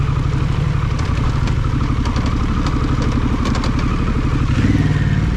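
Adventure motorcycle rolling down a steep creek track on Waterfall Creek Road with the rider using the clutch: a loud, continuous close engine burble with rattling clatter and knocks from the rough ground throughout.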